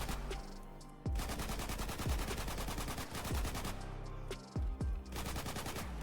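Rapid automatic gunfire from a modded GTA V game, dense loud bursts of shots with sharp low thumps and continuous rattling, heard alone without talk.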